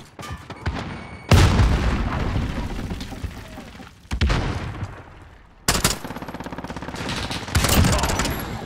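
A grenade blast and bursts of automatic gunfire during a Hardpoint match in Call of Duty Modern Warfare, with loud booms around 1.3 and 5.7 seconds amid repeated rapid shots, close and intense.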